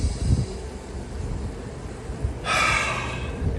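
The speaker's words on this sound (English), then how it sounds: "if I take a deep breath" A person takes a deep breath during abdominal exercise for back pain, with soft breathy sounds and a louder, longer airy inhale or exhale near the end, close and without speech.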